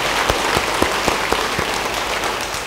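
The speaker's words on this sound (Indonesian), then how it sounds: "beri tepuk tangan buat Tuhan" A church congregation claps in praise to God, a dense, even burst of applause with a few sharper claps standing out, continuous for a couple of seconds.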